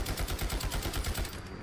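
Rapid bursts of ISO Hemlock rifle fire from the Fallout 4 game, loud and rhythmic with closely spaced booming shots in a sustained volley, no talking.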